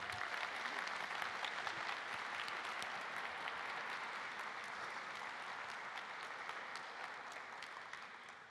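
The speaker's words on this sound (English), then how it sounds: "So please, a big applause for Oleksandr Shevchenko." An audience at a railway industry conference claps in sustained, dense applause that holds steady and then slowly tapers off.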